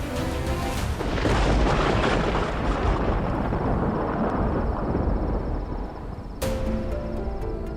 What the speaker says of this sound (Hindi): ये तूफान कब थमेगा?